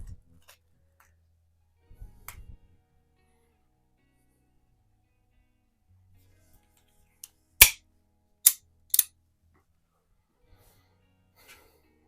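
A Baikal IZH-46M single-stroke target air pistol fires three sharp, close shots in quick succession after long quiet stretches, with faint breathing and small handling noises between.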